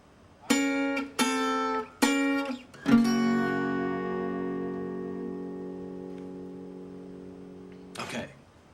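The opening four notes of a Delta blues guitar riff, three quick plucked chords followed by a fourth left to ring and decay for several seconds, then a short final strum, close and alone without speech.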